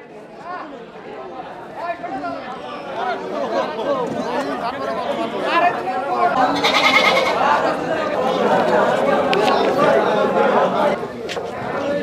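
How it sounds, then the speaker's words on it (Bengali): Goats bleating at a bustling livestock market, several short cries rising above dense crowd chatter, with people talking nearby throughout. "আলহামদুলিল্লাহ আমরা ছাগল নিয়ে নিছি"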